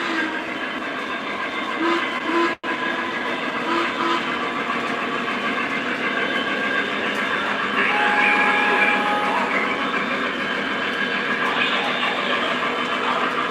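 An MTH model train runs on a home layout with its onboard sound working, giving a steady rolling rumble with short whistle-like tones over it, heard up close and continuous throughout.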